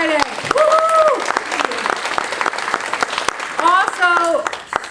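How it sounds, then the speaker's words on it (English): An audience at a weight-loss gathering bursts into loud, sustained applause mixed with whooping cheers, close and filling the whole stretch with brief dips between waves of clapping. "let's all give a huge round of applause to the 2 people who lost 10 pounds already"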